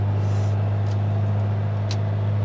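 A Ford Sierra Cosworth with a freshly swapped gearbox and hydraulic clutch cruises on the road in fourth gear, its engine holding a steady, continuous low drone throughout, heard from inside the car.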